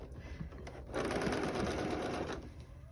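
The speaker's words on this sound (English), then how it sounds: "Sew it on the other side." Sewing machine stitching quilt binding around a curve, a low start that swells into a steady fast whir for over a second before slowing, close and alone.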